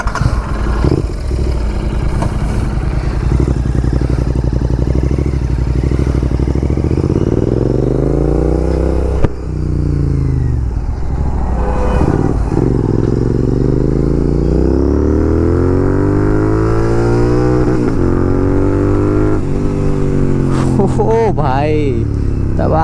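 BMW S1000RR-style sport motorcycle fitted with an aftermarket exhaust, riding with a loud close engine roar that rises and falls through repeated revs and gear changes, while someone talks over it.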